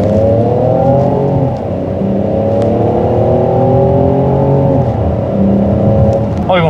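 A Peugeot 5008's 1.2-litre gasoline engine hums steadily and climbs in pitch as it accelerates, eases off briefly, then pulls again, heard close from inside the cabin.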